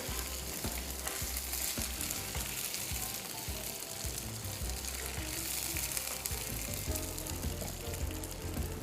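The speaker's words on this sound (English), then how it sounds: "I can hear all the sizzling sound right here." Food with curry leaves sizzles and crackles steadily in a hot pan, with occasional stirring scrapes, close up and continuous.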